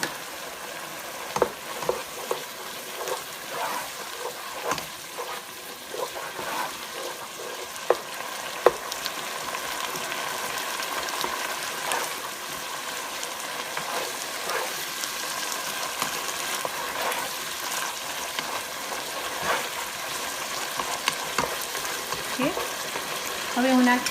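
Ground beef curry with tomato paste fries in a pan, a continuous close sizzle broken by the scrape and clatter of steady stirring.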